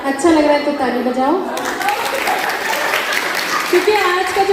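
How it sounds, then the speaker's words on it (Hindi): An audience at a Holi celebration bursts into applause: a dense, loud wash of clapping rises after someone speaks and continues under his voice to the end. "अच्छा लग रहा है तो ताली बजाओ"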